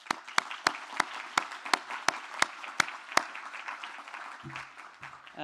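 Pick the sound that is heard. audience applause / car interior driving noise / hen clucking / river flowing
audience applause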